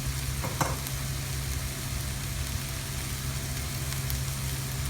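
Peppers sizzle and fry steadily in a pan with spices and garlic for a Kuwaiti eggplant dish, a continuous frying hiss with an occasional stir, alone and at moderate loudness.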